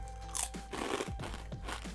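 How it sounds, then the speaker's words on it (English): Kettle brand potato chips crunched between the teeth, a few crisp bites followed by chewing, close and loud with no one talking. "Very good crunch, not too much salt."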